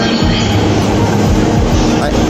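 A JR train pulls out of Shinjuku station with a loud, steady rumble and rail noise that fills the whole stretch without pause.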